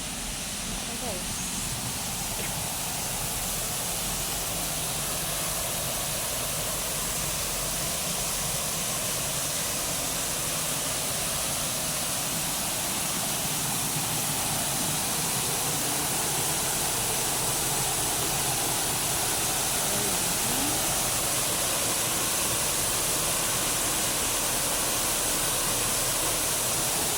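Waterfall at a park lit up for Chinese New Year, a loud, dense, continuous hiss and rush of falling water filling the whole scene, with people talking faintly over it.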